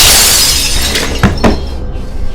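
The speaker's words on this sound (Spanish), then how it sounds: "tomó alguna pieza de vidrio que había del otro lado del mueble y la escuchó estrellarse contra el piso" A piece of glass shatters against the floor, a sharp breaking crash followed by a couple of quick clinking impacts over a loud noisy background in a dramatized story scene.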